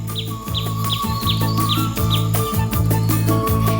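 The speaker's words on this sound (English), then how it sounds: "Exotic birds inhabit this 30-acre garden" Exotic birds calling in a 30-acre tropical garden on Kauai: repeated short chirps and a sustained whistled note sound over a steady low rhythmic drone, probably background music, with no voices.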